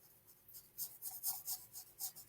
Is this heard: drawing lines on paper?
yes